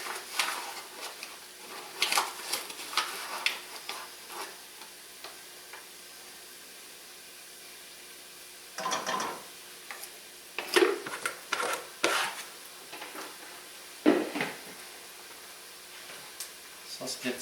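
Flour stirred into mushrooms frying in a pan for a roux, heard as intermittent rubbing and scraping strokes against a faint sizzle, with quiet gaps between bursts and nearby voices at times.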